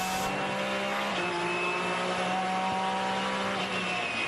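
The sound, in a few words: Porsche GT race car engine at Daytona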